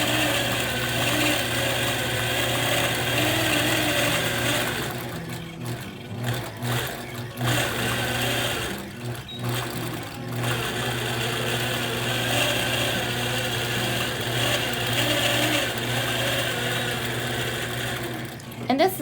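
A long-arm quilting machine hums and whirs continuously as it stitches around fabric squares, its motor steady with a few brief dips, while a person talks over it.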